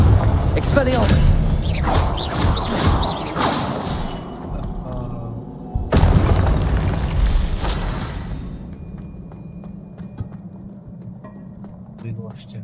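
Spell blasts, including a Confringo explosion, go off in Hogwarts Legacy combat: a sharp booming burst midway, followed by a fading rumble. Loud game effects and a person talking fill the first half.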